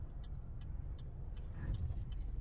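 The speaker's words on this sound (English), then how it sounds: "let me let this car pass" A car passes on a street at a red light, a steady low engine rumble swelling slightly as it goes by, with no talking.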